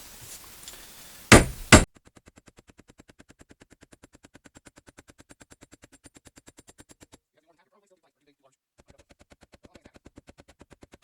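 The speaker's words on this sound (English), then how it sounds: "We're just going to tap these in with a hammer." A hammer taps timber tracks into a wooden bread box assembly through a protective cloth: two sharp, loud knocks near the start, followed by a long run of faint, evenly spaced clicks.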